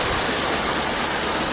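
Pump-fed water rushes steadily across a Gold Fox hatch sluice with gold hog matting, a loud, close, continuous gushing with no pauses.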